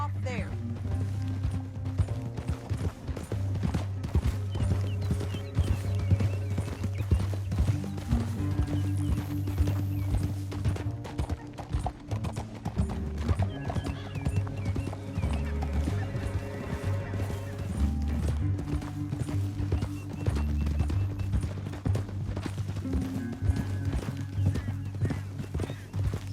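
Horse hooves clatter in a fast galloping rhythm alongside music in Red Dead Redemption 2, with voices speaking over it at times.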